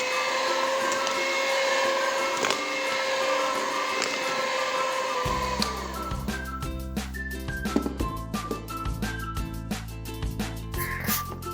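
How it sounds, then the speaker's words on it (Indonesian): An electric mixer whirs steadily while mixing rainbow cake batter, first as a smooth drone, then slowing to its lowest speed with a lower rhythmic hum and light clicking of the beaters against the bowl. "Kemudian kita mixer kembali dengan kecepatan yang paling rendah sekitar 10 detik saja."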